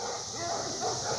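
Livestock guardian dogs bark in a busy, overlapping jumble at moderate distance on a farm pasture, reacting to a loose Cane Corso, with continuous background noise throughout.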